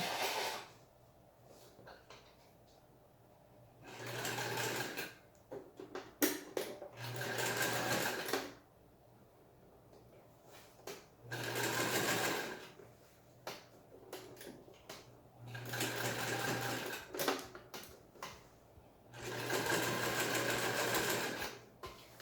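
A home sewing machine stitches a seam back and forth in repeated bursts of steady whirring. Each burst lasts a second or two, with quiet handling clicks between them, close and clear.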